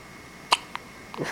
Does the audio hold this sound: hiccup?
yes